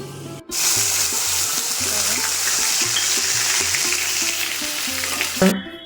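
Bay leaf and dried red chillies sizzle and crackle steadily in hot mustard oil, a loud continuous fry with faint stirring knocks underneath, briefly pausing near the start.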